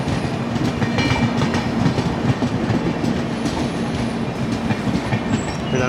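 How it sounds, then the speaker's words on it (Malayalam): The Sawantwadi Road Express passenger train rolls past close by, with loud, steady rhythmic clickety-clack of coach wheels over rail joints and no voices. "ഇതാണ് ദിവാസ് സാവന്ത്വാടി റോഡ് എക്സ്പ്രസ്."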